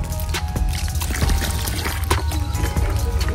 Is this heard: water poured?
yes